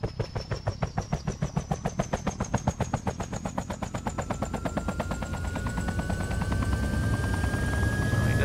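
A helicopter flies at a steady height and speed, its rotor thumping in a fast regular beat that grows louder and denser as it nears, with a rising engine whine behind it.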